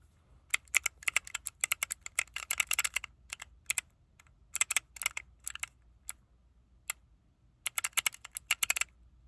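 Rapid clattering keystrokes on a computer keyboard, arriving in quick bursts separated by short pauses, close and fairly quiet.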